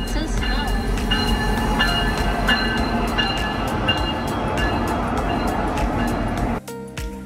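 Passenger train on the Skagway railway in Alaska rolls steadily with a continuous rumble and wheel noise, loud and close, before an abrupt cut to a quieter scene near the end.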